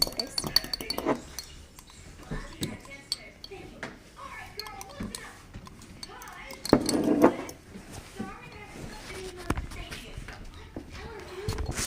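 A fork clinks against a bowl while beating eggs for microwave scrambled eggs, giving scattered light taps and scrapes, a louder burst of clatter partway through, and a person talking throughout.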